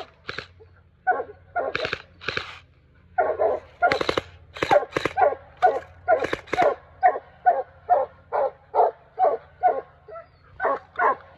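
Hunting dogs treeing, giving a steady run of loud, close barks and yips in quick repeated bursts with brief whines between, no talk over them.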